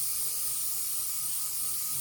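An airbrush fitted with a 0.5 nozzle sprays liquid mask onto an RC car shell, a continuous soft hiss of air and spray held at an even level from start to finish, with no talking.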